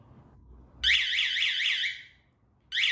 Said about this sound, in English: Press the alarm button.